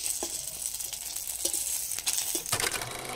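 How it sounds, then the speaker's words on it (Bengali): Fuchka puris frying one at a time in a little oil in a kadai over high heat give a steady sizzle, punctuated by small taps and a burst of louder crackling near the end. "দেখতে পাচ্ছ তেল নিয়ে ফুচকা ভাজছি একটা একটা করে"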